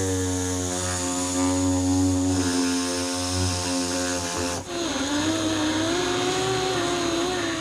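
Power sander run at low speed on a plastic bumper during repair, a steady loud motor drone with strong harmonic hum throughout, pitch dipping and wavering briefly partway as the pad loads against the surface.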